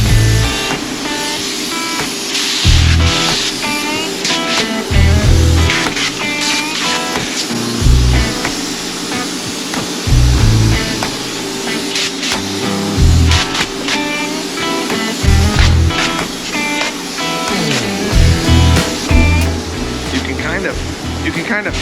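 Spray foam insulation is sprayed inside a house with its floors covered, giving a continuous broadband hiss broken by repeated low pulsing bursts from the rig, fairly loud and steady, while a person talks over it.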